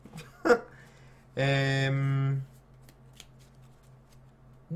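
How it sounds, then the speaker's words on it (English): A brief burst of rapid riffling as a deck of cards is shuffled, preceded and followed by small handling taps, with a steady low hum underneath. "let's just shuffle up this deck"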